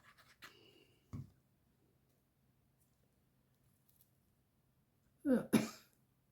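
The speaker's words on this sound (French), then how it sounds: "Mais la colle, elle me fait tousser" A couple of short coughs, one brief and then a louder double burst near the end, with quiet room noise in between.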